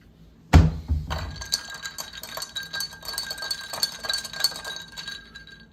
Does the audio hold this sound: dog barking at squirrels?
no